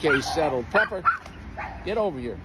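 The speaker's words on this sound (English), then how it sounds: "That's my dog" A pet dog named in passing yips and barks a few times in short bursts close by, mixed with a voice talking over it.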